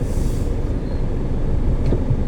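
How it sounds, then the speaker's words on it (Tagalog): An old, low-tech car on the move, its cabin filled with a steady low rumble of road noise and loose rattling, with a brief squeak near the end and no one talking. "Pasensya na guys sa yung mga tumutunog-tunog sa sasakyan ko"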